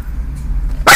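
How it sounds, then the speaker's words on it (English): A dog gives a single loud, sharp bark right at the end after a near-silent stretch. "Piper sees somebody and she's got to bark at them like she's Cujo"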